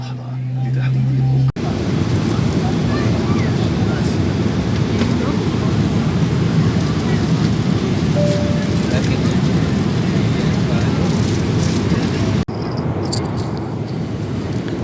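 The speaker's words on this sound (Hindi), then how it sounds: "कुछ ही सेकंड के बाद हम टेक ऑफ कर जाएंगे।" Airliner departing Sialkot, heard from inside the cabin as a loud, steady engine roar and rumble that holds without a break for most of the stretch, with only a brief quieter moment at the very start and near the end.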